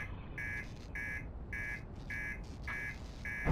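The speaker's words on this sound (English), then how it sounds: "Master alarm is going off" A spaceship master alarm in the Outer Wilds video game blares in repeated evenly spaced electronic buzzes, about six pulses with short gaps, loud and steady with no talk.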